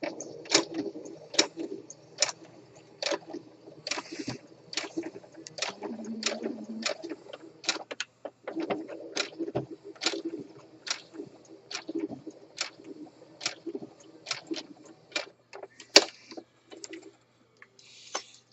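A coverhem sewing machine runs a short reinforcement stitch on the edge of a pant hem, heard as a quiet series of rapid mechanical ticks and clicks in irregular bursts, close and without voices.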